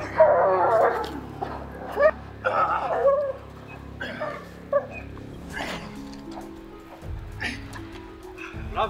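Malinois dogs in a training session whine, yip and bark in short, fairly close bursts, with people talking and calling out over them.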